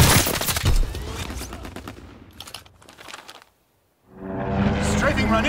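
Call of Duty WWII game audio of a strafing run: dense machine-gun fire roars for a couple of seconds, fades into rumble, drops to brief silence, then returns with more gunfire, under in-game voices.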